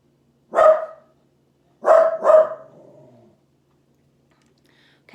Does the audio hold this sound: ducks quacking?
no